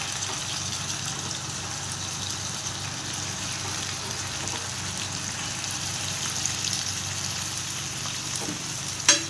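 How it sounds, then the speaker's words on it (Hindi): Chicken sautés with ginger paste in a pan, a steady close hiss and sizzle with a faint low hum beneath, a small clatter near the end, and no talk. "साथ ही इसमें चिकन डाल देंगे।"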